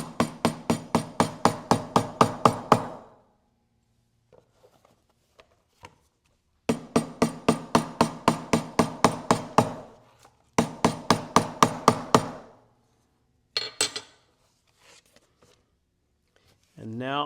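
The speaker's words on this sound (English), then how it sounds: "tapping this down helps make sure I have a good contact" Rhythmic series of sharp taps pressing leather pockets down onto a tooled basket-weave leather journal cover, in three even bursts of about a dozen strikes each, then a few scattered lighter knocks, close and distinct.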